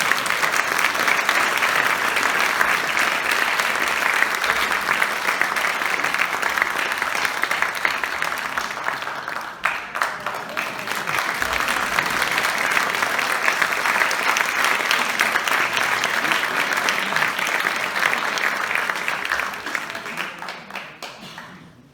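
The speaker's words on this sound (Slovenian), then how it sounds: "Lep aplavz za njih." Sustained applause from a large audience at an event, dense and loud, with a brief dip midway before swelling again and fading out at the end, no clear speech over it.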